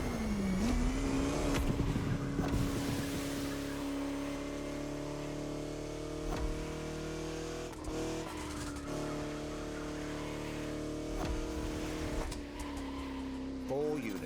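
A vintage Bugatti driving through French countryside roads in The Crew Motorfest, its engine droning steadily with pitch rising and falling through gear changes, close and loud, while a narrator talks over it.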